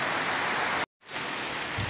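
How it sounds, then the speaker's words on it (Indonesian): Rain pours during a night drive from Nagan Raya to Banda Aceh, a dense, steady hiss close around the vehicle that cuts out for a moment before resuming. "ini posisi hujan ya"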